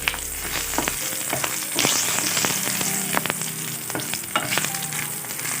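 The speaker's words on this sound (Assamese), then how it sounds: "প্ৰথমতে শুকান মাছকেইটা অকণমান ফ্ৰাই কৰি ল'ম।" Home-dried fish frying in a pan, a busy close sizzle with crackles and pops, stirring clatter over the spitting oil and no talking.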